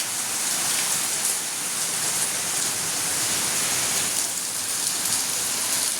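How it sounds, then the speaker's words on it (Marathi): Heavy rain pours steadily, a dense, continuous hiss of water drumming on surfaces with no pauses, close and loud throughout. "असा धो धो धो नुसता मुसळधार पाऊस चालू आहे"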